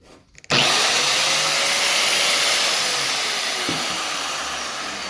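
Metabo W7-115 angle grinder switched on with a click and spinning up to a loud, steady high-pitched whir that holds for several seconds, slowly easing slightly, with no talking.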